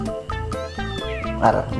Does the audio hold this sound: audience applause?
no